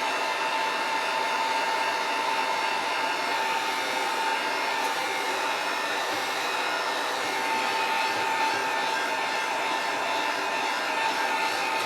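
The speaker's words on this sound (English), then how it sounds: "I'm going to run my heat gun over it a little bit." A heat gun blows steadily while drying paint on a DIY wooden sign, a constant close whooshing hum of fan and airflow that runs unbroken throughout with no talking.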